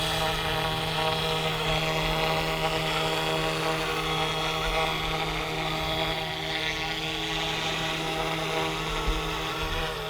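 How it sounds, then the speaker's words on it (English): Brushless RC scale helicopter hovering close by, a steady loud whirring rotor and motor whine with a constant tonal hum, unbroken and unaccompanied by speech. "This is a very cool scale brushless helicopter."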